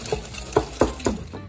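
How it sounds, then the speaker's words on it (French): Softened butter and 125 g of sugar worked together in a bowl for a Swedish Tosca almond cake, with about four distinct scraping strokes against the bowl in an uneven rhythm, close by and fairly quiet. "On va y ajouter nos 125 g de sucre et on va touiller jusqu'à ce que ça devienne mousseux."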